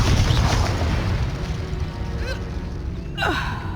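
Confringo fire spell exploding in the video game Hogwarts Legacy, a loud roaring blast with broad rumbling noise, followed by whooshing and a falling, wailing creature cry near the end.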